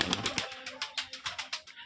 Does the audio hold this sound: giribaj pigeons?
yes